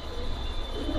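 Soft cooing from white Bombai pigeons kept in a loft, a brief low murmur against steady background noise.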